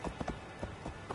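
Horse hooves clip-clopping in the video game Assassin's Creed Valhalla, a quick run of loud, close, irregular hoof strikes with no voices over them.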